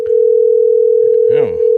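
Telephone call tone heard while dialing a lottery winner, a loud steady continuous tone held throughout, close on the line, briefly interrupted by a voice speaking near the end.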